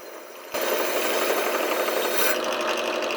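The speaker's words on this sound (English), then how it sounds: "I took the bars to the drill press and tried to grind off whatever coating was on there" Drill press grinding the coating off motorcycle handlebars for a CRF50 build: a steady, loud abrasive rasping hiss that starts abruptly after a moment of quieter background and continues without a break.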